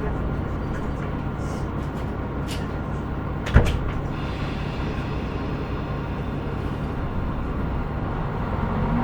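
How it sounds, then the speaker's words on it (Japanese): Doors of a JR Chikuhi Line KiHa 125 diesel railcar shutting with a single sharp thump midway, set against the idling engine's constant low rumble inside the car, with faint voices around. "閉まるドアにご注意ください。"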